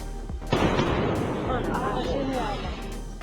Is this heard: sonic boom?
yes